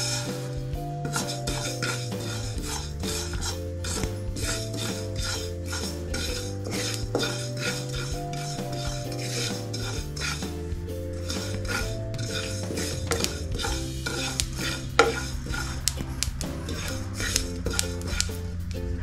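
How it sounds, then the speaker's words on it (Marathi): Sesame seeds roasting in a pan, stirred continuously with a metal spoon, giving steady scraping and tapping against the pan with a low hum beneath and no talk. "आता आपण तीळ भाजून घेऊया"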